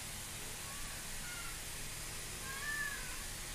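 A pet cat meows a few times, faint and thin, the calls rising out of steady background hiss late in the moment, with no voices alongside.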